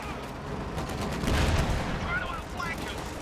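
Video game light machine gun fire from grenadier troops in a combat match, rapid bursts of gunfire with booms in a busy battle mix, a voice talking over it.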